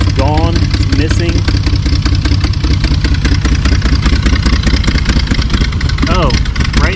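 A car engine idles steadily, close and loud, while exhaust leaks from the secondary air injection tube, giving a rapid pulsing chug throughout, with someone talking over it.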